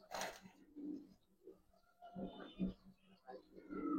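Soft cooing of female pigeons in a loft, low burbling calls repeating at close range amid rustling and background murmur, with people talking nearby.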